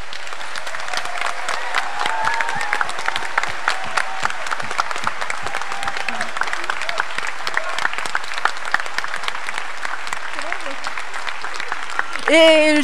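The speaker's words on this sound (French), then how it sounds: "un tonnerre d'applaudissements pour Bruno." An audience at a youth astronomy festival applauds loudly and continuously for several seconds, the clapping dense and sustained, and a voice begins speaking as it ends.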